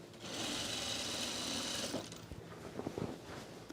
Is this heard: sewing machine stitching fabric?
yes